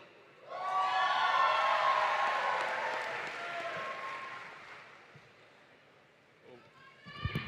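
A graduation audience at Lincoln University applauds a speaker, a broad wash of clapping that swells loud near the start and slowly thins out, with cheering voices mixed in and a few last claps near the end.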